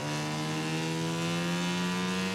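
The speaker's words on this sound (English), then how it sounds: "bike sounds maybe not all inspiring in this view" A steady droning motorcycle engine from the video game MotoGP 19 hums at a constant pitch, fairly quiet and even, with no talking.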